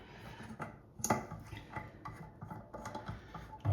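Stuck pop-up sink drain stopper of the no-lever type, with a jammed spring mechanism, being twisted counterclockwise by a rubber-gloved hand, giving faint close-up metallic scraping, rubbing and clicking in irregular bursts.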